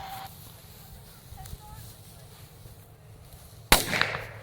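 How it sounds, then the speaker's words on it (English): A small professional firecracker goes off outdoors with one sharp, loud bang near the end, preceded by quiet ambience and a faint fizz. "we're going to start off with number 1, which is a small little cracker"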